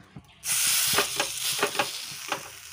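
Lentil paste fritters hit hot oil in a thin wok: a sudden loud sizzle breaks out after a quiet moment and carries on steadily, with soft knocks and scrapes of stirring.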